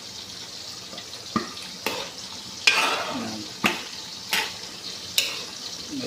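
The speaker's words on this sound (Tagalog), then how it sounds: "Pwedeng haluin, bahagya lang para hindi madurog." Pork for adobo sizzles steadily in a hot pot while a utensil scrapes and stirs through it in repeated sharp strokes, with a short spoken word.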